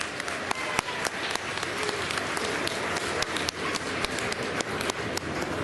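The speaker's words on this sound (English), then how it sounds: "Round of applause for Brian," An audience applauds for actor Brian Vernel, dense and sustained clapping from a crowd with sharp individual claps popping out across the whole stretch.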